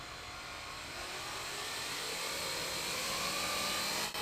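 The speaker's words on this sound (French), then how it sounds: "Dernière tentative avec des hélices conventionnelles. Oh, le son est tellement doux." A drone flies on conventional propellers, giving a steady broadband whirring hum that stays close and constant throughout with no talk.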